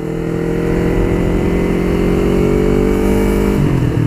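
A 2019 Yamaha New R25 sport motorcycle on slick race tyres pulls hard under acceleration, its engine a loud, steady, close high-revving drone with rising pitch and a brief shift near the end.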